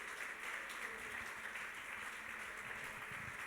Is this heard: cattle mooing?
no